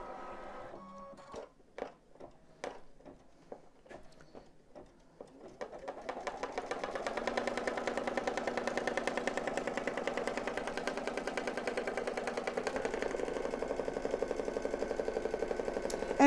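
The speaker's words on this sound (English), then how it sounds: "it's going to stitch a basting line to show you where to lay down your fabric" An embroidery machine sewing fabric in the hoop starts with a few separate clicks, then settles into a fast, steady, rhythmic needle clatter that runs on close by.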